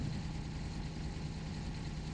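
Close, steady idle of a turbocharged Italian car's engine in BeamNG.drive, a continuous low hum with no breaks and no talking.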